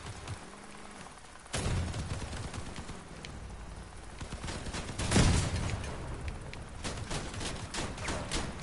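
Scattered gunfire from the game Mayhem, a few sharp reports, one louder burst near the middle, set against a busy low rumble of ambient game noise, with no speech.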